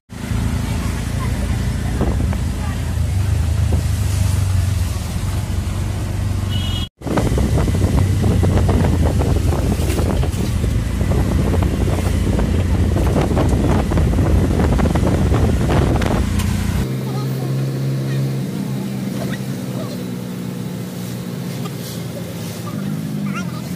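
Riding in an auto rickshaw through rain: a steady roar of engine rumble, road and wind buffeting runs throughout, with a brief dropout near seven seconds and a quieter, idling stretch in the final seconds.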